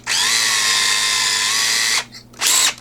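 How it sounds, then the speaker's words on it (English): A power drill bores a pilot hole in wood while a hidden compartment tool cabinet is being built, giving a loud steady whine for about two seconds, then a brief second burst. "Put a pilot hole in there."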